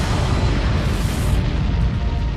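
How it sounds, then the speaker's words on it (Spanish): Deep, sustained explosion effect for a gamma ray burst in space, a loud continuous rumbling roar that holds steady for a couple of seconds without pause. "Un rayo gamma estalla."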